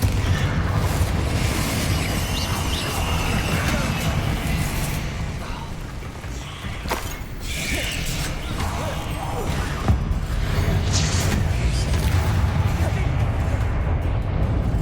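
Spell blasts and booming explosions from Hogwarts Legacy sound over a continuous roar of magical combat, with sharp bursts at intervals.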